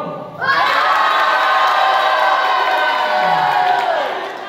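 Pro-side supporters at a pesantren student debate on phone use break into a loud, energetic crowd roar of cheers and shouts that begins suddenly and stays strong before tapering slightly.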